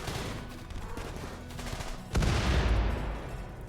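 Rapid gunfire rattles in a RimWorld tribal colony battle, a dense fusillade of shots that suddenly swells into a heavier, louder burst of fire partway through, with no talk.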